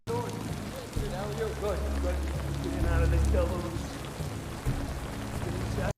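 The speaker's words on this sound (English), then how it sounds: "It is always raining" Steady rain falls through a scene in The Batman (2022), in a rainy Gotham, as a constant wash under spoken voices and film dialogue, with a low rumble swelling briefly.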